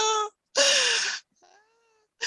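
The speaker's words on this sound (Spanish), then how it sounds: "igual escuchan a los gatos peleando" Cats fighting in a garden, with two loud, harsh yowling cries followed by a fainter, wavering meow after a pause, close and with no talk.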